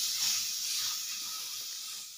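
Mashed brinjal for bharit is stirred into a hot tempering, giving a steady, close hiss of sizzling that holds evenly throughout, with no voices.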